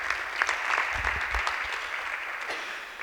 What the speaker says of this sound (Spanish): un fuerte aplauso también para Your Design